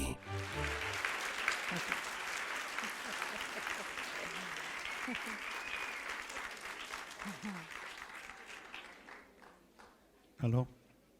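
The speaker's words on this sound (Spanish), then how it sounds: "Recibamos con el más cálido y amoroso de los aplausos a la extraordinaria Patricia" A lecture audience welcomes a speaker to a talk on meditation with warm, sustained applause, full and dense at first, then gradually thinning, with a few voices and a brief close bump near the end.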